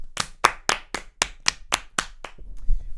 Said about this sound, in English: I think every single player in that Crystal Palace team deserves a round of applause